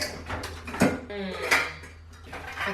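Metal pans clank and scrape as they are handled in a home kitchen, several sharp knocks and a ringing tone, with a voice talking in between.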